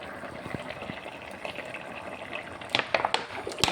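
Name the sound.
pouring cooled boiled water into instant mango pickle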